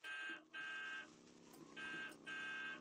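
Repeated electronic beeping from a vehicle horn in the Roblox game Bloxburg, four sustained buzzy tones in a steady on-off rhythm, clear and alone.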